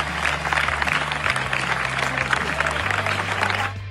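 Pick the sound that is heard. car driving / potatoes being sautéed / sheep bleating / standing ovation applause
standing ovation applause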